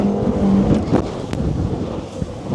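A Quintrex 540 Territory Legend custom-built aluminium boat's outboard engine gives a quick rev on the water, a short loud surge under steady wind noise, with no talking.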